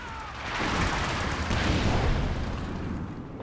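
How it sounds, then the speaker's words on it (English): Incendiary and airburst shell explosions in the strategy game Company of Heroes 2, a dense rumbling wash of blasts that swells and holds for a few seconds, heavy and continuous. "the incendiary munitions combining up with the airburst shells"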